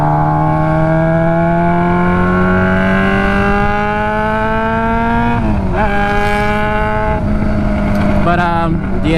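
A Yamaha R6 motorcycle on its stock exhaust, engine droning loud and steady with rising pitch, then rev changes near the end; a voice talks over it.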